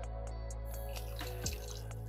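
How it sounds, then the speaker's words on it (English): Water is poured into a pan for masala chai, a faint, soft liquid splash and trickle heard close by in a quiet kitchen with no talking. "add in 2 cups of water"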